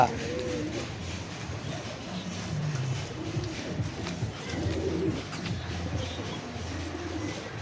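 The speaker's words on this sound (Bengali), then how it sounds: "প্রচুর পায়রা।" Many Giribaz pigeons cooing at a sale, low repeated coos layered close by amid shuffling and background noise, with someone talking over them.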